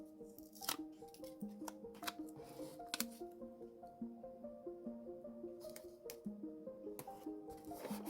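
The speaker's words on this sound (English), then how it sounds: "I will cut this a little too long" Scissors snip through a Rolodex card in a quiet room, a series of short, crisp cuts at a fairly regular pace, close to the listener and fairly soft.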